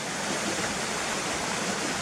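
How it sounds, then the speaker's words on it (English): Several small waterfalls on a Scottish burn rush in a steady, dense roar from close by, filling the air evenly with no breaks and no voices. "I'm right next to a few little waterfalls."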